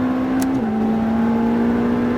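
A race car in the GT Drive racing game, driving the Mirevel circuit, holds a steady, loud engine drone under acceleration, with a slight dip in pitch early on and then an even, sustained tone.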